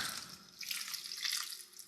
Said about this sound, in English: I'll go ahead and add my ice cold water.